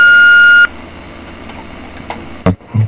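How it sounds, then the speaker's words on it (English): An answering machine gives one long steady electronic beep before the voice message recording starts. The tone cuts off sharply and is followed by faint room noise and a few soft clicks and thumps. "To leave a voice message, please speak after the beep."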